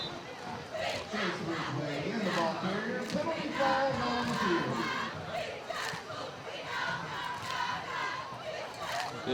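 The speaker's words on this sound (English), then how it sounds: "these cheerleaders are loud" Loud cheerleaders chant and yell rhythmically alongside a noisy crowd at a Little Miami versus Winton Woods high school football game. The cheers come in repeated pulses and stay prominent throughout, with crowd babble beneath.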